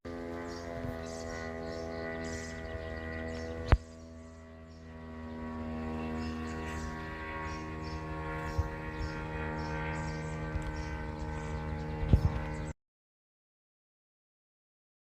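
Long-range attack drone of the Bober or Liuti type in flight, a steady droning propeller-engine buzz with a strong harmonic whine, sustained for about twelve seconds before cutting off.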